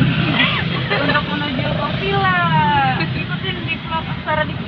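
Interior of an angkot minibus on a ride from Depok Baru station toward Villaggio Depok, a steady engine and road rumble underneath while people chat and babble nearby.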